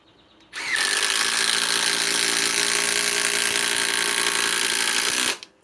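A Metabo HPT WH 18DDX sub-compact impact driver rated at 1240 inch-pounds runs in one loud, continuous burst of about five seconds, close up, driving a fastener into 4-inch timber.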